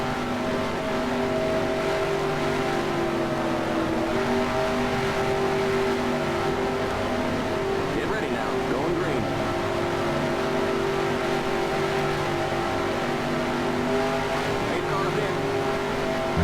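Several NASCAR Racing 2003 race car engines drone and rev together on a restart, a loud, steady multi-engine roar with shifting pitch throughout, a voice talking over it.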